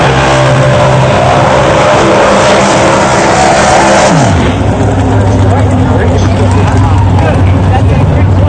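A drag racing car at Dover Dragstrip roars loudly at full throttle, its engine note climbing and then dropping sharply as it passes, with heavy sustained noise and no audible talk.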